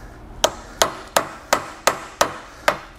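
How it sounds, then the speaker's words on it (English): Seven light, evenly spaced metallic taps from a hammer on a U-joint bearing cap of a Chevrolet Silverado Duramax, each sharp and brief with a short ring, in an otherwise quiet space. "Take your hammer very lightly,"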